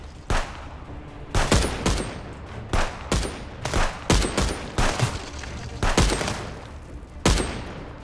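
Gunfire from the video game Contraband Police, where a sniper rifle is in use: about a dozen sharp, loud shots in an irregular rhythm, some in quick pairs, with short gaps between them.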